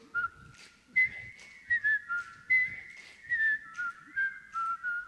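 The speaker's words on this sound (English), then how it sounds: "Whistle along, your Andy Griffiths theme." Solo whistling of the Andy Griffith theme at a musical whistling awards show, a clear, bright melody of short repeated phrases with brief pauses between them, close and alone without talk.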